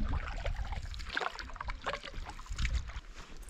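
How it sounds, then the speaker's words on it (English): Canoe paddles dip and pull through lake water in close, repeated strokes, with splashes, drips and gurgles against the hull on a wilderness lake trip in Temagami. "More paddling."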